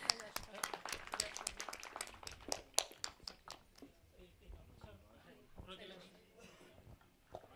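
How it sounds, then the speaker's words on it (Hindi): Audience at a film premiere clapping for special guests, a burst of sharp hand claps that thins out after about three seconds, leaving faint murmuring and a voice in the background. "हमारे सारे स्पेशल गेस्ट का एक बार जोरदार तालियों से अभिवादन होना चाहिए"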